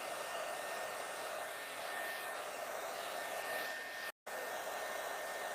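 A CHI blow dryer runs steadily at close range with a loud, even airflow roar, cutting out for a split second near the end before resuming at the same level.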